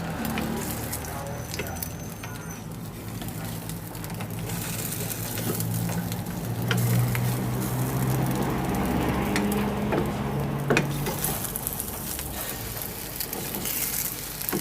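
Bread frying in an oil-filled pan during a home English breakfast cook, a steady soft sizzle running throughout with clatter and background noise, voices talking over it at times.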